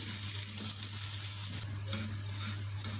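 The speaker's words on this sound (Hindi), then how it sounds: "2-3 मिनट सेवइयों को और इन ड्राई फ्रूट्स को फ्राई करेंगे इस मक्खन में" Fine crushed vermicelli and dry fruits fry in butter in a pan, giving a steady, soft sizzle with light stirring scrapes and a constant low hum underneath.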